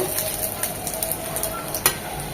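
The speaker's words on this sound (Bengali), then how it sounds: "প্যানে দিয়ে দিচ্ছি দু চামচ সয়াবিন তেল এক চামচ পেঁয়াজ কুচি" Chopped onion frying in two spoons of soybean oil in a pan: a steady, close sizzle with faint crackles and a brief clink of a spoon near the end.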